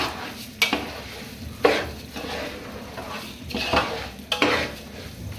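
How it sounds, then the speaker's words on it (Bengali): Washed, dried pulao rice is fried in a pan, a low sizzle under repeated metal spoon scrapes and clinks against the pan at irregular intervals. "চালটা কিছুক্ষণ ভাজবো"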